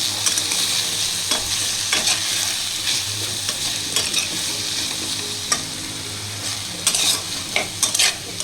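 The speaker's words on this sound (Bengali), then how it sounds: "নুন হলুদটা যাতে সব সব সবজিগুলো গায়ে লাগে বেগুন আর আলু তাই নাড়িয়ে নিচ্ছি" Potato and eggplant fry in oil in a wok, sizzling loudly and steadily while a utensil stirs them in repeated scraping strokes and clatters.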